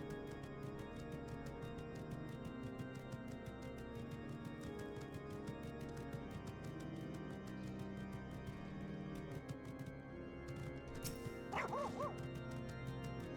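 A dog in Final Fantasy XIV: A Realm Reborn yips and barks in short bursts over steady game music and ambience, with the clearest yelps near the end.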